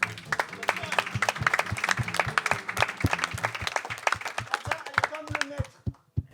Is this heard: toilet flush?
no